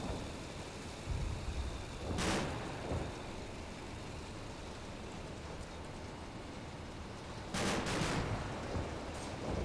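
Gunfire in the tactical war game Combat Mission Black Sea: two distant bursts of shots, one near the start and another near the end, over a steady rain-like noise bed.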